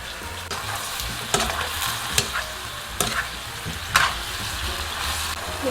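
Potatoes cook in a pan with water added for a Korean braised potato dish, giving a steady sizzle and bubble, with occasional stirring knocks from a utensil, close and even.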